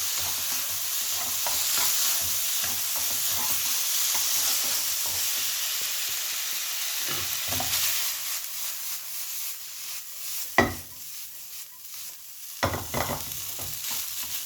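Japanese-style garlic fried rice with pork sausage and shoyu is stir-fried in a hot pan, giving a steady sizzle with continuous scraping and tossing strokes and a few sharp knocks of the utensil against the pan.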